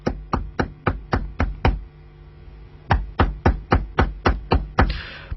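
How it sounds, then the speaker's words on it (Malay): Someone knocks on a door in two quick series of about six sharp raps each, close and clear, with a short pause between the series. "dengar lagi kisah orang ketuk pintu"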